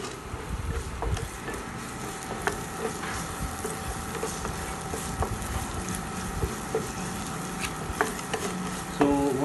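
Chopped garlic and onions sautéing in olive oil in a pan, a steady crackling sizzle with scattered pops and spits, moderately close and without talk.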